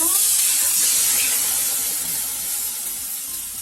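Water poured onto a hot oven tray while baking homemade bread sends up a loud, continuous steam hiss that fades slightly over a few seconds.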